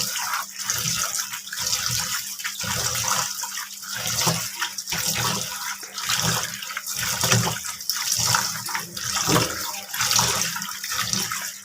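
Tap water runs steadily into a pot in a home kitchen, a continuous broadband splashing rush with faint low clatter, close and fairly loud, no talking.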